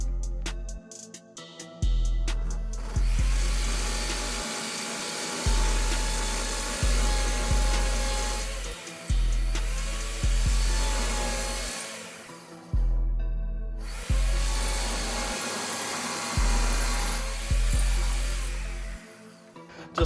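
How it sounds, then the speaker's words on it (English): A power drill with a 1/4 inch bit bores pilot holes into a garage beam for hanging a heavy bag, sounding in loud, steady whirring bursts of about two seconds each, separated by short pauses. "drill these holes and let's do it."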